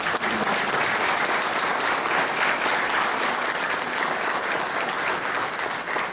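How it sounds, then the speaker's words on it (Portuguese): Audience applause fills a session of the Senate hall for a cultural academy event, loud, dense and steady for the whole stretch with no speech over it. "Peço uma salva de palmas para ela."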